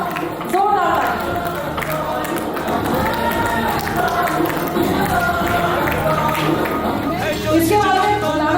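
Audience at an awards night applauding: a sustained wash of clapping with crowd chatter and occasional shouts, a little louder near the start and again near the end.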